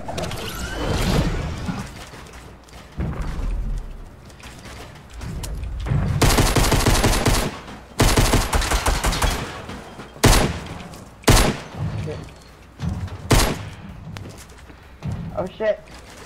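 Gunfire in the video game Fortnite, during a laser tag match, heard as bursts of rapid shots and sharp mechanical clicks, some loud and close, with players talking over parts of it.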